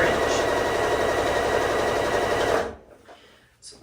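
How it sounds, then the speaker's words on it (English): A sewing machine runs steadily, stitching quilt strips together at a quarter-inch seam for a beginner's brick path pillow cover. The loud, continuous whir holds for about two and a half seconds, then stops abruptly and leaves near silence. "So I'm just going to go ahead and stitch these together."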